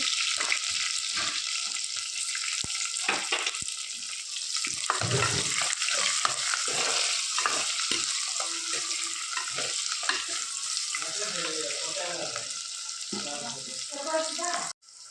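Dried red chillies, mustard seeds and onion frying in a pan for a Mangalorean rasam, a steady broadband sizzle with stirring scrapes and clatter running throughout, close and fairly loud.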